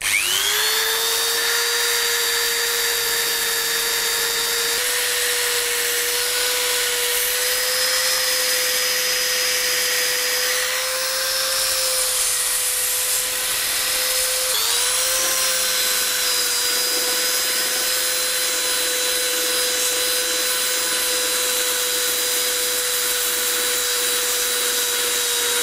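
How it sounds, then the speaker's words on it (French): An electric file hums steadily as it sands the edges and tight corners of a wooden palaver chair, a continuous high whine that dips briefly midway and near fifteen seconds, loud and close with no talking. "pour la finition, j'utilise la lime électrique qui va me permettre d'aller dans les plus petits angles"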